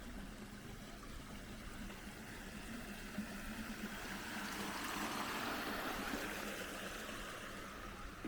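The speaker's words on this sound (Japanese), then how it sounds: "流れる水の音も心地いい。" A stream flows with a soft, continuous rush of water. It stays faint and steady throughout, over a low, engine-like hum in the background.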